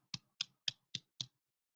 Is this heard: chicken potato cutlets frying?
no